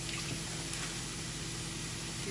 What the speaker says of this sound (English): I'm going to go ahead and add some water.